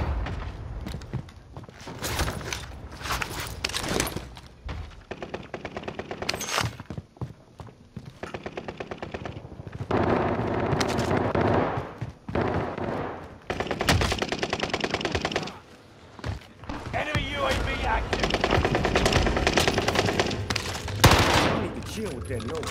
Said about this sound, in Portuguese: Sabia que ele tava atirando